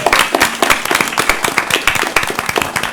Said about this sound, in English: Oh yeah, one round of applause.